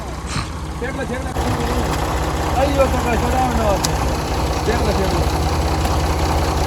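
Tractor engines, three of them, rumble steadily at idle while working to pull a trolley that has slipped off the road, a continuous low drone with people talking over it.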